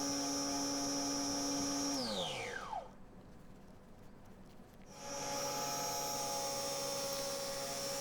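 A wood lathe turning a small walnut bowl hums steadily, then its pitch slides down as it spins down and goes quiet. It starts up again at a new steady tone, 2,300 rpm instead of 1,400.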